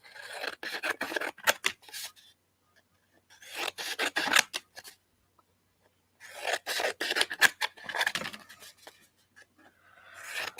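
Tea-dyed paper being cut into smaller pieces with scissors, giving three bursts of close, rasping snips and paper rustle separated by short pauses.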